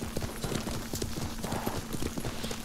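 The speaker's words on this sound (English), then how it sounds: "We call him. We are calling the horse." Rhythmic hoofbeats of a horse in Ghost of Tsushima, a steady clip-clop gait close up, with a brief whinny-like call and faint game ambience.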